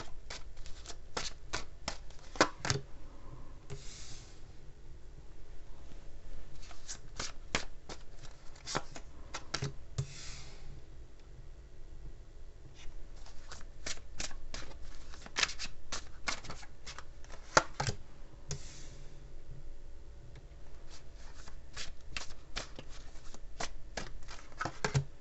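A Chinese tarot deck being shuffled gives repeated quick riffles and soft card slaps in bursts, close up, with quiet pauses between rounds of shuffling.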